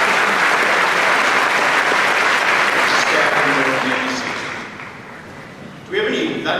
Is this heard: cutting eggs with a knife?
no